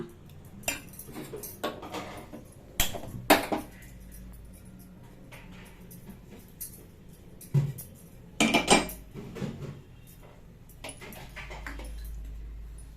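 A kuzhi paniyaram pan for sweet potato paniyaram is set down on a stove, heard as scattered metallic clanks and knocks of cookware and utensils at close range, with quiet gaps between.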